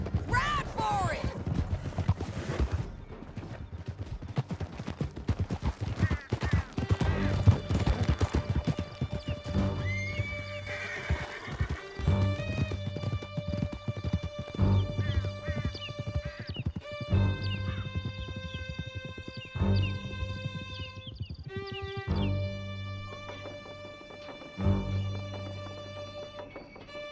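Horses gallop in Red Dead Redemption 2, hooves clip-clopping in a steady rhythm with neighs and whinnies, while loud music and speech sound over the ride.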